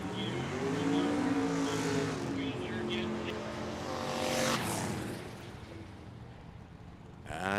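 A Ford Ranger pickup and a silver-and-red 1968 Camaro race down a drag strip, engines roaring past from fairly close then fading, with an announcer's voice over the noise.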